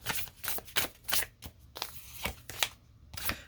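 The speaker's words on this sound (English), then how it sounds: "2 more shuffles" Tarot cards are shuffled by hand in a quick series of soft riffling bursts, about a dozen papery flutters in a loose rhythm, close and fairly quiet.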